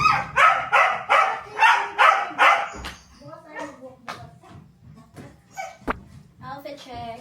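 Dogs whimper and cry in a run of rhythmic whining yelps, then scattered short barks and yips follow, close by, with people talking over part of it.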